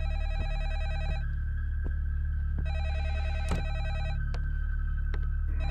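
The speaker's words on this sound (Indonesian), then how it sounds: "Tak lama kemudian, telepon pun kembali berdering." Apartment telephone ringing in repeated trilling bursts with short gaps between them, moderately loud over a steady low hum and a few faint clicks.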